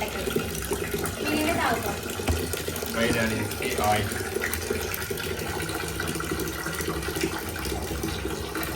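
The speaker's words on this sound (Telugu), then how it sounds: "బియ్యం కడుతుంది ఆ నీళ్ళు చెట్లకు పోయొచ్చు కదా మంచి బలం వస్తుంది" Water sloshing and running as rice is rinsed in a large pot during cooking for a mutton biryani, a continuous splashing wash with voices faintly in the background.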